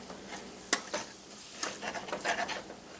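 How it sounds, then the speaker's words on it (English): Sugar melting toward caramel is stirred in a pan for a dark chocolate salted caramel tart, giving soft scraping strokes and light clicks over a faint sizzle, close and fairly quiet. "And just stir it until that sugar is, you can see that"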